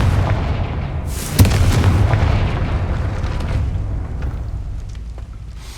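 Confringo blasting spell in Hogwarts Legacy: a loud explosive boom about a second in, followed by a rumbling, crackling tail that slowly fades over several seconds.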